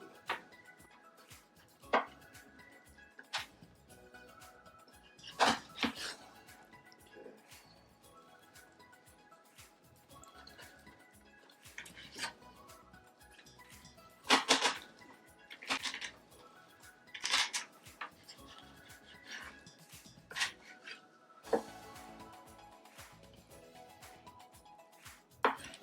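A sharp knife works through Atlantic salmon, making scattered quiet slicing and tapping sounds with occasional louder knocks against the board, irregular and close.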